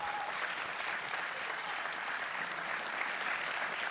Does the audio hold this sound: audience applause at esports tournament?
yes